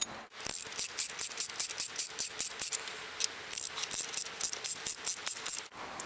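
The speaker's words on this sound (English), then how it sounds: "Now using a deep 10mm socket, remove the 4 center stack bolts." Clicking ratchet strokes from a deep 10mm socket loosen BMW valve cover bolts, a fast, even series of close, crisp pawl clicks running nearly throughout with a brief pause, no voices.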